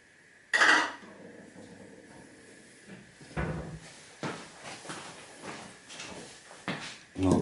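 A lid is put back on a glass jar holding hydrochloric acid: a sharp clink of glass, then scattered taps, scrapes and knocks of handling on a bench, fairly close and quiet between sounds.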